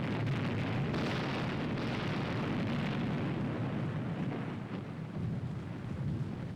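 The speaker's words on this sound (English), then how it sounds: "To get those first troops over, there's covering fire from the near shore." Covering gunfire from the near shore during a military demonstration of an assault river crossing, heard as a dense, continuous roar of massed firing and blasts, loud and unbroken throughout with no talk.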